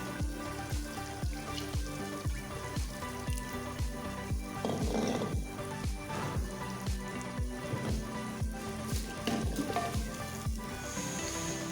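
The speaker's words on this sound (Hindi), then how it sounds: "इसकी अच्छे से भुनाई कर लेंगे।" Beef pieces fry in oil for a beef handi, a steady sizzle running beneath rhythmic background music with a regular beat for the whole stretch.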